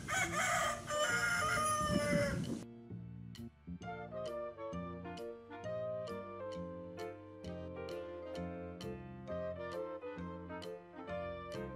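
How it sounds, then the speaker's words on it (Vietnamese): A single rooster crows loudly at the start of a Vietnamese children's alphabet lesson. Then bright, plucky music takes over with a steady bouncing rhythm. "Con gà trống kêu thế nào?"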